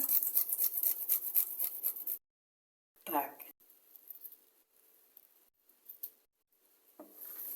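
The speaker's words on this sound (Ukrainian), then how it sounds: "потремо. Два зубочка чесничка." Two garlic cloves rubbed on a fine kitchen grater, a rapid rasping scrape for about two seconds, then a brief clatter and quiet handling noises.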